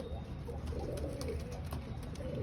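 Low, rolling coos from domestic flying pigeons kept at a home loft repeat steadily over a constant background hum, fairly close and unaccompanied by talk.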